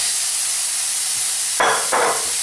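Food sizzles steadily in a frying pan as a vegetarian keto bibimbap browns into a crust on the bottom. The constant close hiss flares up in two brief louder bursts.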